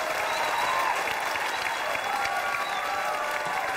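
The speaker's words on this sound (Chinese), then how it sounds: "掌声鼓励。" Studio audience applause on a Chinese television talent show, a steady, dense clapping wash lasting several seconds at even loudness with no speech over it.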